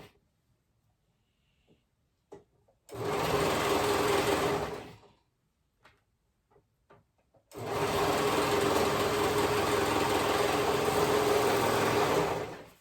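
A serger overlock sewing machine stitching fabric for a clover dress, running in two sustained loud bursts of steady whirring with a pause and light handling clicks between.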